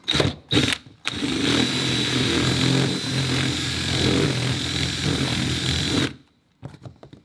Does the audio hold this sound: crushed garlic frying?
no